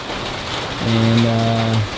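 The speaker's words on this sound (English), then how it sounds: "And then it started raining, so now I'm sitting under here under this little shed" Rain drums steadily on a small shed roof in the Texas countryside during a turkey hunt, a constant close patter, while a low lowing or droning tone rises over it partway through.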